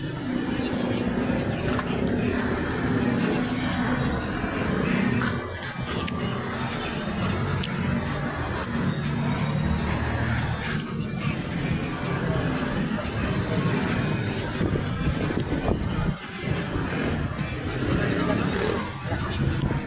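Rush-hour highway traffic rumbles as a dense, continuous roar of passing cars and motorcycles close by, with people talking faintly underneath.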